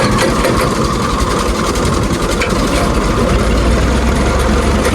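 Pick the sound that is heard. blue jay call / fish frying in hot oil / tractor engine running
tractor engine running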